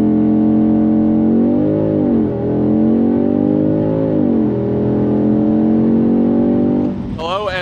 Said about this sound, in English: Let's do a launch control launch here.